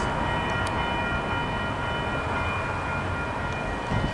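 A yard crew train rolls past at close range, making a loud, continuous rumble and rail roar with faint metallic squeals, and no speech is heard.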